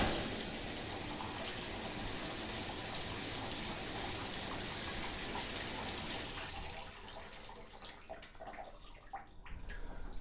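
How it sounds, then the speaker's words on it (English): Water runs from a tap into a clogged bathtub, a steady close rushing for most of the stretch before thinning into quieter splashes and drips as the flow eases. "we're going to run a little water here and then wait for it to go down"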